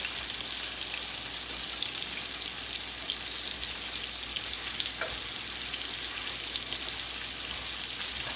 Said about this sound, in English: We got that sauteing in this olive oil